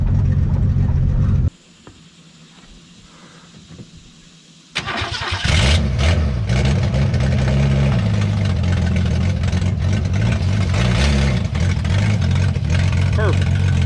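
An old 1966 Ford Mustang, long abandoned, cranks and fires up nearby, then settles into a loud, steady running rumble as people talk over it.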